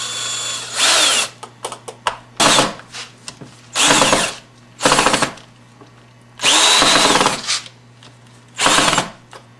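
A power drill drives wood screws into a shelf's wooden frame in a series of close, loud bursts of whirring, some long and some short, separated by quiet pauses.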